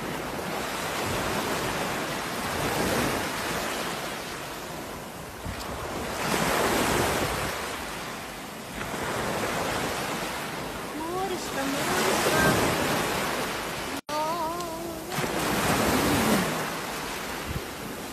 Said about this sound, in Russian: Настюш, ну смотри, море. Море, море.